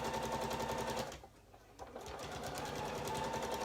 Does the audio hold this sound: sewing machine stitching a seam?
yes